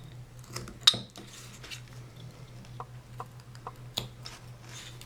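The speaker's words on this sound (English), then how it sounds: "we'll just continue on with this knife" A carving knife cutting into a wooden caricature figure, giving sparse, quiet scraping clicks and soft shaving strokes at an irregular pace, close by, over a low background hum.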